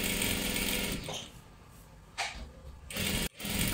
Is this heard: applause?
no